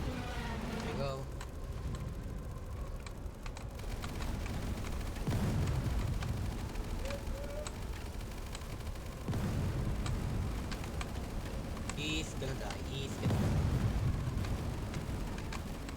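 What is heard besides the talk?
explosions in video game Tower Defense X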